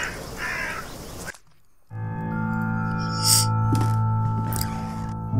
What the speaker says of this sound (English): Murderous crows eating eagerly.